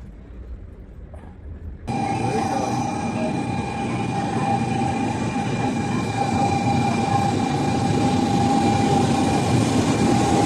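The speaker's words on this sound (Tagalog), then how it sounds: "Yan na yung train na sasakyan namin." A train pulls into a station in Hiroshima, Japan, arriving with a sudden loud rumble that stays steady, carrying a sustained metallic whine and wheel noise close by.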